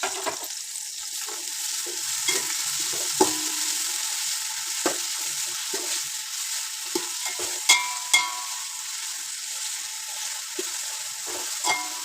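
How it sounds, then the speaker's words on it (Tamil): Sliced onions frying in oil over high flame for a Bakrid mutton nalli biryani: a continuous bright sizzle, with scattered spoon taps and stirring clacks against the pot. "அரிஞ்சு வச்ச வெங்காயத்தை நல்லா போட்டு பொன்னேரமாக வணக்கிடுங்க நல்லா ப்ரௌன் ஆகட்டும்"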